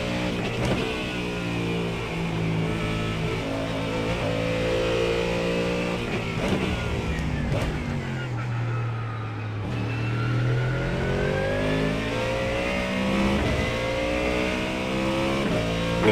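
A Ford Mustang GT3 race car in the iRacing video game laps Magny-Cours, its engine droning loudly and steadily as it revs up and down through gear changes, with no one speaking.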